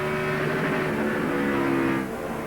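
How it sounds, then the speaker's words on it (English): A 2002 NASCAR Busch Series race car engine at Phoenix drones at high pitch, its note stuttering and dropping briefly as it bounces off the rev limiter in a turn, loud and close. "Hear that engine burp as Keller went in turn 3? That's the rev limiter."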